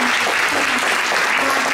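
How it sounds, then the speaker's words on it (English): Brief, dense applause from an audience in a school theater, steady and unbroken for under two seconds. "I'd like to have you give a round of applause for Emily Mitchum."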